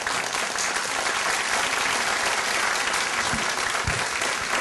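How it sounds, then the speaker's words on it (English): Audience at a community gathering gives a round of applause, continuous dense clapping at steady volume, with a couple of louder thumps near the end. "please, let's give him a round of applause"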